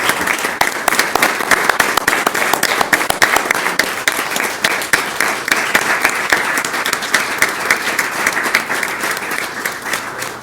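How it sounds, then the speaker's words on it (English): Loud, sustained applause from the audience at a school governing board meeting honoring Chief Minter, many hands clapping densely and steadily for ten seconds, with no speech over it. "Let's join me in a round of applause."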